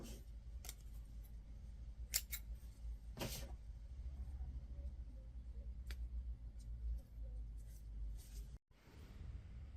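Scissors snip through crochet yarn in a few quick, quiet cuts, sharp short clicks spaced apart over a soft low background hum.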